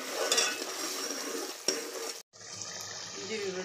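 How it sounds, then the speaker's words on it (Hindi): Masala frying in a pan for a dal mash, a soft close sizzle with a spatula scrape and clink, cut off abruptly midway before a quieter stretch of frying continues. "जी बस मसाला हमारा बस भूनने को है।"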